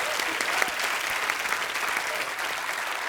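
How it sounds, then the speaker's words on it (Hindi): Audience clapping on a Hindi television talk show, a brief, dense and steady burst from the studio crowd. "जोरदार तालियां इस बात के लिए."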